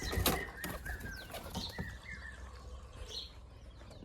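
Pigeons fly out with a sudden loud flurry of flapping wings at the start, followed by fainter scattered flutters and soft bird calls.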